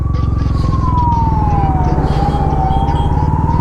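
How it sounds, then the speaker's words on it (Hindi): An ambulance siren wails steadily behind a motorbike on an Indian road, its tone sliding slowly down and back up, loud and continuous over the bike's engine rumble. "पीछे से एक एम्बुलेंस है"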